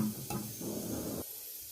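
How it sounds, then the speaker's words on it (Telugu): Urad dal, chana dal and cumin seeds frying in a pan give a faint, short sizzle with a soft stirring scrape, fading after about a second. "ఒక హాఫ్ స్పూన్ జీలకర్ర వేసుకొని కొంచెంసేపు అలా కొంచెం వేగేంత వరకు వేపుకోవాలి"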